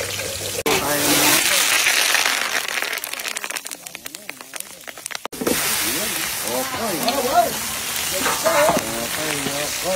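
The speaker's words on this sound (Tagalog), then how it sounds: "Pinirito yung itlog na marami" Eggs frying in oil in a pan, cooked with a giant ladle outdoors, give a steady broadband sizzle and crackle that drops briefly mid-clip, while people talk over it.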